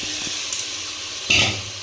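Spice paste and mung dal frying in a pan, a soft steady sizzle with a sharper burst of hiss and scraping as it is stirred near the end.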